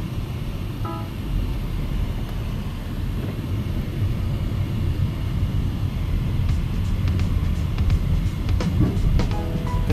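Steady low engine and road rumble fills the cabin as a 2025 Honda City pulls away after the handbrake is released, continuous and fairly loud with faint clicks near the end.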